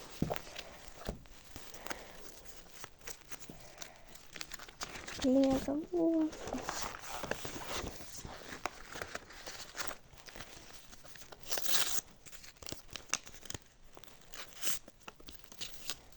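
Paper tearing and crinkling as a packet is ripped open, close by, with someone talking over it.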